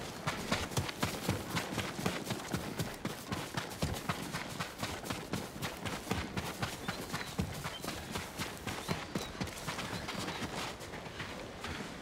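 Horses trot in the Ghost of Tsushima video game, a quick, steady clip-clop of hooves that runs throughout at moderate, even volume, with no talk.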